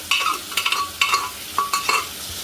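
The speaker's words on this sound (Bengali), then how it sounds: "এবার আমি মাংসগুলো সবগুলোই দিয়ে দিলাম মশলার ওপরে" Goat meat being stirred and fried with spice paste in a pan, with repeated close scrapes and metallic clinks of the spatula in short bursts over a low background sizzle.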